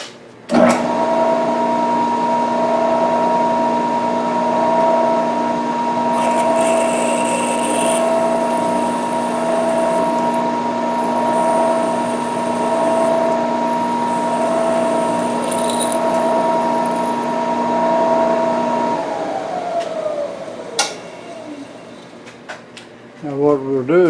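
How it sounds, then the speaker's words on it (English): A power drill boring a hole for a ceiling camera mount gives a steady, loud whine that holds almost twenty seconds, then winds down, with faint clicks and handling at the end. "Alright, hole drilling time."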